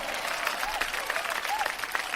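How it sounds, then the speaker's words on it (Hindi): Audience applause welcoming a poet on stage at a comedy poetry gathering, a brief burst of clapping from a crowd with a few whoops rising over it, close and fairly loud. "तालियां।"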